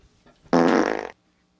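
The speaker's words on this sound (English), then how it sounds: "Fart." A single loud, buzzy fart blasts for about half a second, then stops, leaving near silence.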